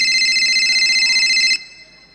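A mobile phone ringtone signals an incoming call: a loud, bright electronic warble repeating steadily for about a second and a half, then cutting off abruptly, leaving faint room noise.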